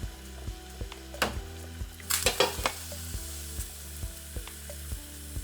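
Cambodian caramelized pork with eggs bubbling in a covered pot, a soft steady simmer with a few clinks and lid or pot knocks partway through, no voices.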